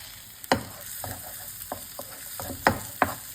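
Onion, garlic and ginger sizzle in olive oil for paella, a soft steady frying hiss broken by a few sharp clacks and scrapes of a stirring utensil against the pan.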